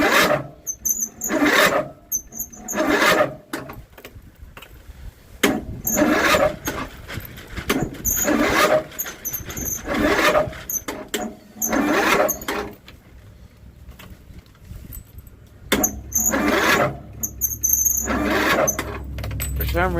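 John Deere 102 riding mower engine cranking on a cold start in about 8-degree weather after a battery charge: several separate bursts of whirring starter cranking, broken by pauses, without the engine catching.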